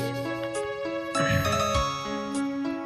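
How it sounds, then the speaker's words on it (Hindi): A mobile phone ringtone plays a bright, chiming melodic tune of sustained tinkling notes that change pitch in sequence, ringing clearly with no talking over it. "आपका फोन बज रहा है मिस्टर लोकेश।"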